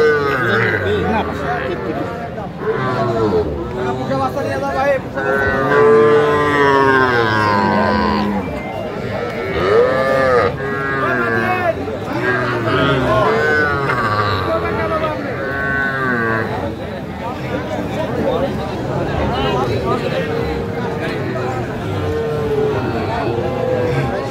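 A Sahiwal bull calf moos repeatedly, loud and close, at a busy cattle market in Cumilla, Bangladesh, with people bargaining over it nearby.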